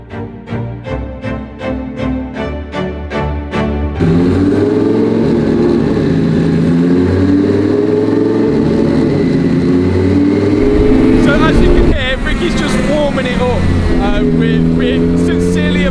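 A tuned Lamborghini Gallardo engine pulses at a lumpy idle, then bursts into loud, sustained revving that holds high and surges again near the end, close and dominant throughout.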